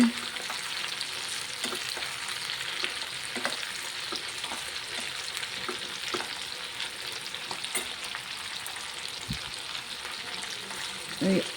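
Spicy chicken lollipop kababs frying in oil, a constant close bubbling sizzle with occasional small pops and light clinks of a utensil.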